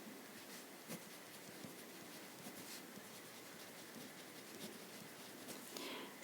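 Pen or pencil writing on paper while working a math problem, soft continuous scratching strokes with small taps, faint and close in a quiet room, no talking.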